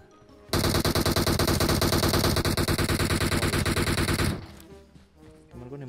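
A teammate firing a gun in a video game, one loud continuous automatic burst lasting about four seconds that then cuts off into quieter background game sound.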